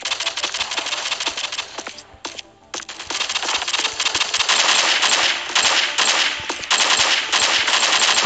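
Rapid submachine gun bursts from the first-person shooter game Pixel Strike 3D crackle loudly in quick rattling volleys, pausing briefly before resuming in dense, sustained fire.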